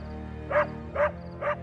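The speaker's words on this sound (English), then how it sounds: "dog won't stop barking." A dog barks three times in a steady rhythm, each bark short and moderately loud over a low background hum.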